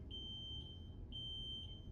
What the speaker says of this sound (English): That's not a whoop, that's a beep. Is it a fire alarm?